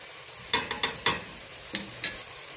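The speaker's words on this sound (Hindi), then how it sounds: "अब इसको अच्छे से भूनते हैं" Minced beef with garlic powder fries in a pan for lasagna, a low sizzle broken by several sharp scrapes and knocks of a spatula stirring the meat, close by and without talk.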